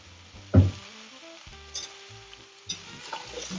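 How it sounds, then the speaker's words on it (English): Carrots and potatoes are stirred into an Asian-style short rib soup, giving a few soft scraping and clunking stirs with quiet gaps between them and no talk. "do another stir"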